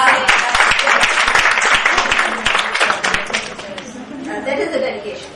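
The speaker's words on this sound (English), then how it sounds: "Let's clap for them." An audience at a Montessori conference in Karachi claps, a dense burst of applause that thins out over a few seconds while a voice talks over it.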